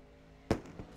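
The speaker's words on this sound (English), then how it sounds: "And the fireworks still sounding." A single sharp firework burst pops at a speedway race for non-wing 360 sprint cars, followed by a fainter second crack, moderately distant and brief against quiet background.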